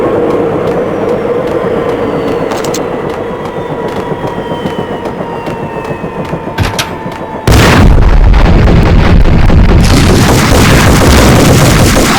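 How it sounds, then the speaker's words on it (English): In the Max Payne PS2 game, an armed helicopter lands on manor grounds: a loud, continuous rotor and engine roar with rumbling tones, then a sudden heavy boom and harsher noise that lasts to the end. "An armed helicopter just landed on the manor grounds."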